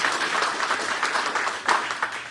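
An audience at a book presentation claps together, a dense burst of applause that swells briefly and fades over a couple of seconds.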